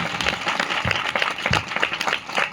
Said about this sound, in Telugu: దగ్గరగా చప్పట్లు